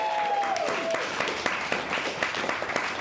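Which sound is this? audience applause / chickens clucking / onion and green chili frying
audience applause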